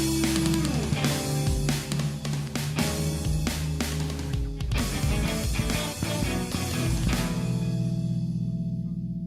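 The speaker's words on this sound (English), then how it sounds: "And this is the intro with the riser and everything and sound effects" Intro of a J-rock song built with a rising riser and sound effects over a dense band mix of drums, guitars and bass, loud and continuous throughout, with no talking.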